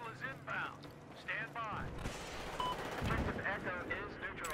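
Gunfire in the Battlefield 4 China Rising Silk Road map, repeated shots and bursts of varied loudness at mid distance with someone talking over them.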